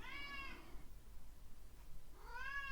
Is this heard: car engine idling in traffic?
no